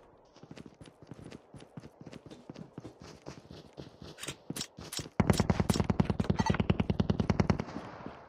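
Weapon magazine change in Call of Duty Mobile: a run of sharp mechanical clicks and clacks, then a loud, rapid burst of repeated gunfire-like impacts from about the midpoint onward.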